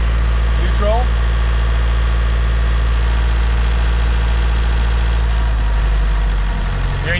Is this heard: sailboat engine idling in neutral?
yes